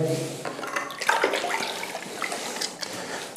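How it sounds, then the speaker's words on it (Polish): A whole bucket of water splashes and pours steadily into a plaster hopper tank for a few seconds, a close, rushing wash of sound with some clatter. "Wlewam sobie całe wiadro wody."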